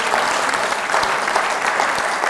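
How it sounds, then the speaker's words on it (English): Steady applause from an awards gala audience, dense clapping throughout with no talking over it. "A round of applause for the Manthan"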